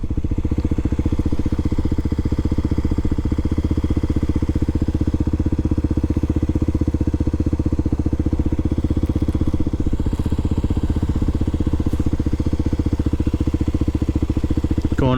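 Motorcycle engine while riding down a remote country road, a steady, loud, continuous drone that holds unbroken throughout with no voices over it.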